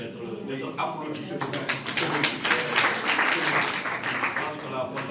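An audience at a literary and media gathering in Rufisque gives scattered, moderate applause. A voice talks over the clapping throughout.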